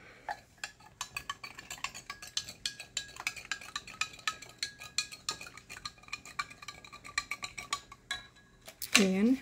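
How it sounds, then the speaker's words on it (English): A spoon stirs a drink in a cup while preparing an MRE meal, giving a rapid series of close, bright clinks against the sides that continue for several seconds before a brief voice at the end. "Give that a little stir."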